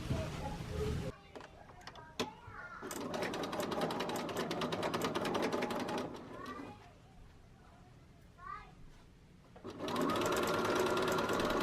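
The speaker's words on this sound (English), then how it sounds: "Now I'm going to fold it just once and then sew." A sewing machine stitches a folded dress hem, running in long whirring bursts with brief pauses between them, close and fairly loud, and no one speaks.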